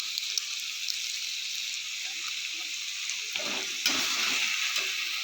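Cabbage with tomatoes and garam masala sizzles steadily in a pan, a continuous close frying hiss with occasional stirring scrapes that get louder near the end; no one speaks.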